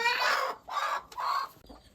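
Chickens cluck and squawk nearby in three drawn-out bursts with short pauses between, fairly loud and alone.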